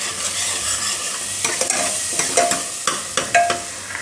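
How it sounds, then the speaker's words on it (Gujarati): Spices stirred in hot oil over a low flame for a Gujarati tindora and potato dish, with a steady close sizzle broken by sharp scraping and clinking of a spoon against the pan. "આ રીતે થોડીક વાર તેલમાં ફેરવી લેવાનું"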